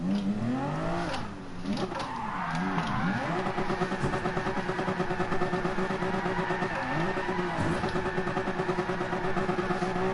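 The Toyota Supra concept car in Gran Turismo Sport, racing during an online qualifying lobby, gives a loud, steady engine drone that rises and falls with revving and gear changes and carries on throughout without any talk.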